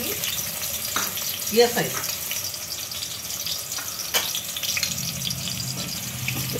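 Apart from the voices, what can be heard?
chopped onion frying in oil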